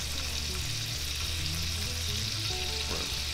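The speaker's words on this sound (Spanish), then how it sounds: "aquí vamos a agregar el chorizo," Chorizo sausage browning in a hot pan gives a dense, continuous sizzle and crackle with faint stirring scrapes, close and steady throughout, with no talk.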